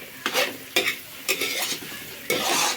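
Tofu fries in a hot pan, sizzling steadily and close, while a utensil stirs and scrapes it with several distinct strokes.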